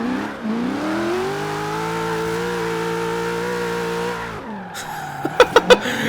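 A 1992 Ford Falcon GT engine in Forza Horizon 3 holds a steady, loud drone under load, its pitch rising slightly, then drops off near the end as a few sharp bursts of engine or tyre noise punch through.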